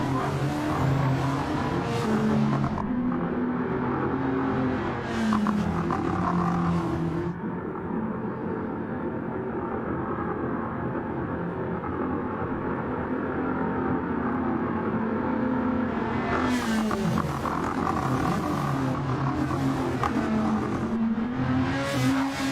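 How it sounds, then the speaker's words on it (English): A touring car in a racing video game at Bathurst accelerating hard, its engine droning loud and steady with rising and falling pitch through the gears over about twenty seconds. "Humza gets on the accelerator again"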